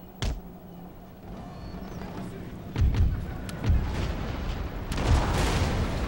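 Several deep cannon booms in the video game Empire: Total War go off at irregular intervals, some near and punchy, others duller, over a low rumbling game backdrop.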